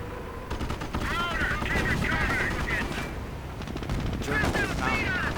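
Sherman tank and Puma armoured car trading fire in a 1v1 Company of Heroes match, with a dense run of repeated gunfire and shot sounds over rumbling battle noise, near and loud, with a voice talking over it.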